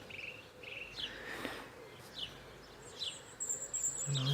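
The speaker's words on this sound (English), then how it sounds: "You can hear the birds." Birds call outdoors on a grey day in a fire-damaged area, with several short chirps and whistled notes scattered at a moderate distance over faint insect-like background hiss.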